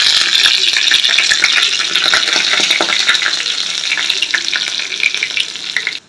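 Finely chopped green chillies and curry leaves crackle in hot oil for a tempering, a loud, dense spitting sizzle that holds steady before cutting off abruptly near the end.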